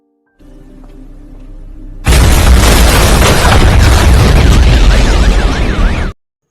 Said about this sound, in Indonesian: Setelah ledakan itu ternyata Yun Ok masih selamat